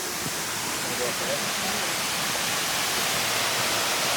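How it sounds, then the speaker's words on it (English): A large waterfall on a hike in El Yunque National Park roars as a continuous broadband rush, loud and steady throughout with no clear breaks. "The second waterfall was bigger than the first, with a deeper pool to wade in."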